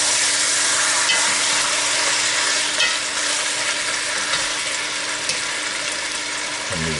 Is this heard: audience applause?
no